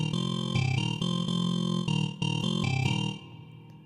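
A sustained synthesizer tone with a wavering, pulsing vibrato, played as a few held notes that change pitch and then fade out.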